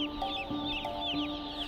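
Young chickens crowded in a warehouse chirp and cluck without pause, a dense overlapping chorus of high peeping calls over a steady mechanical hum.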